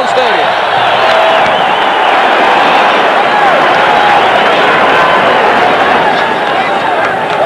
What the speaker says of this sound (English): the Tech defense gets a roar of approval from this 50-plus crowd at Jones Stadium